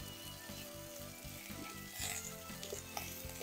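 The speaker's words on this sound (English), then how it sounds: "While I'm browning the meat off" Lamb shanks brown in a camp oven with a continuous crackling sizzle, steady and close, broken by a few clunks as the meat is turned, with no talking.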